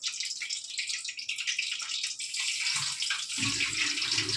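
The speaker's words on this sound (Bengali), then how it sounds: "অল্প জল দিলাম ভালো করে ভিজোতে দিয়ে দিলাম" Water poured over poppy seeds and cashews in a kitchen to soak them, a close, steady splashing pour that grows heavier and fuller toward the end, with no speech.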